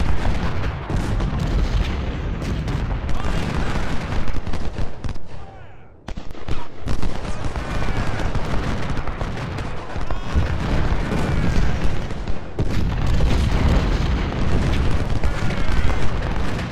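Dense musket volleys and booming artillery fire from a Civil War battle at Chancellorsville in Ultimate General: Civil War, a continuous roar of overlapping shots and blasts with a brief lull near the middle.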